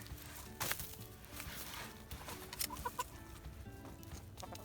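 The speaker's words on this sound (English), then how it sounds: "So it just seems like this chicken wants to be in the way." A chicken inside a coop clucks in short, scattered bursts, fairly close, over a low rustling background with no speech.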